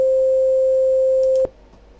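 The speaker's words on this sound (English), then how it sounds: "So there is one cycle of the sine wave, and then you can resave it if you wish." A pure, steady sine-wave sample tone from a chiptune tracker holds at one pitch, clean and unbroken, then cuts off abruptly near the end, leaving faint hiss.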